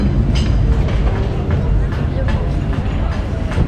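A tram pulls in at a busy city stop in Gothenburg, its low rumble and faint rail squeal sitting beneath a steady outdoor crowd noise, with people talking nearby.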